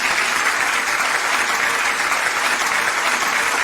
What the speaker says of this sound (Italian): ritorna con un applauso bello fortissimo